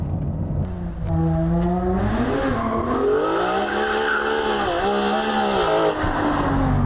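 A Ferrari 599 GTO's high-revving engine roars loudly and steadily, its pitch sweeping up and down through the gears in a sustained, close howl.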